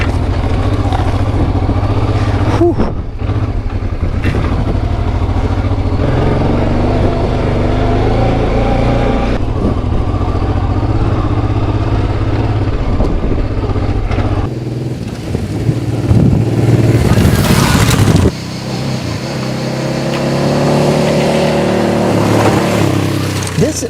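A 1995 Honda Africa Twin motorcycle ploughing through deep sand, its engine droning loud and close with surges of revving and throttle changes, wind buffeting throughout and a brief burst of noise late on.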